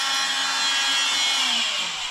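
A power tool cuts into sheetrock, giving a short, loud, steady high whine and grinding rasp that tapers slightly at the end.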